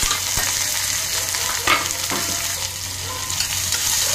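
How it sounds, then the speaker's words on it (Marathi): Chopped onion and green chili sautéing in a hot mustard-seed and asafoetida tempering for bun dosa, a steady close sizzle with spoon stirring scrapes, no talk. "कांदा छान आपल्याला परतून घ्यायचा आहे।"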